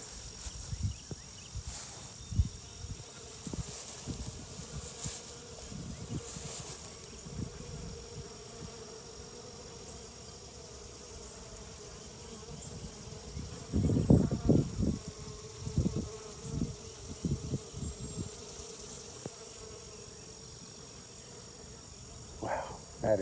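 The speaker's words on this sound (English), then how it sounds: "And the bees are loving it." Bees buzz around flowering buckwheat near a garden pond, a steady close insect drone carrying through the whole stretch, with some louder bursts of movement about midway.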